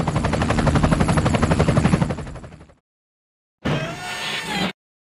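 Rhythmic rotor chop of a helicopter beats loudly and evenly, then cuts off; after a pause, a second burst of whirring rotor and engine noise plays briefly.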